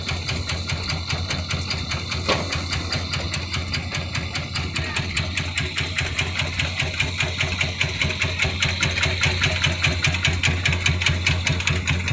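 A grab crane truck's diesel engine runs loud and close with a steady, rapid rhythmic knock that holds for the whole stretch, with no talk over it.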